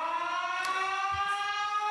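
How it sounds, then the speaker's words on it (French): A civil defense siren in Paris sounding its daily test, a steady sustained wail with rich harmonics held at even loudness throughout, faint distant rumbles underneath. "C'est une sirène. C'est notre fameuse sirène qui arrive à 9h22 tous les jours."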